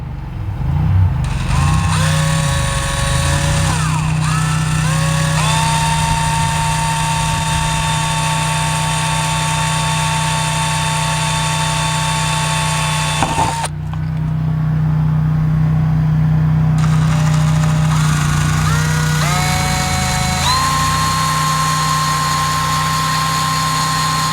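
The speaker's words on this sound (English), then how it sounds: "we can drill our two bottom holes here and finish it off with the screws here" A power drill bores screw holes through a garage door to fit a mail slot. Its loud, continuous motor whine shifts pitch in steps, with a short break about midway.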